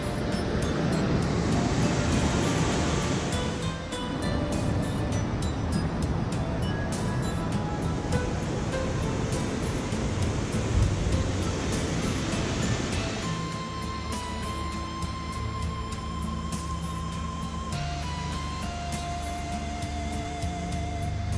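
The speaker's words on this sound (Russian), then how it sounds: "Это первый водопад." A waterfall in the Tzoumerka mountains of northern Greece pours with a steady broadband roar for the whole stretch, even and unbroken, with no talking.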